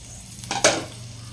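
Crushed green turkey berries tipped into hot oil in a clay pot for a village-style curry: a brief clatter and soft sizzle burst out over a quiet kitchen background, then settle back down.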